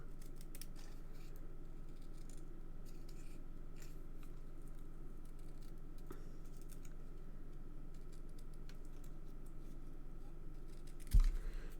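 Scissors snipping paper for a handmade birthday card, quiet close crisp cuts repeating at an even pace, with a sharper clack near the end.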